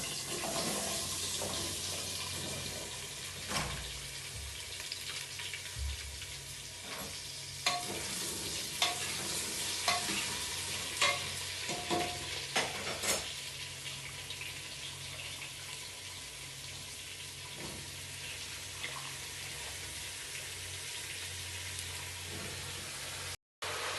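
Potatoes are added and stirred into a fried tomato and ginger masala for potato-eggplant curry in a pressure cooker, a soft sizzle with scattered scraping clinks of a spoon, close and moderately quiet.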